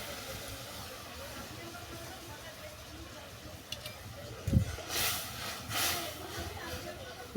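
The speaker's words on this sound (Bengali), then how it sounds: "গুড়টাকে ভালো করে ফুটিয়ে নেব।" Liquid date palm jaggery heated with a little water in a pan until it boils for homemade Joynagar moya, giving a soft, steady hiss with a few louder bubbling surges midway.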